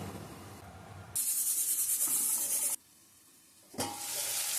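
Chopped tomato pieces hit a hot pan and sizzle loudly, a bright hissing fry that cuts out abruptly for a second, then flares up again.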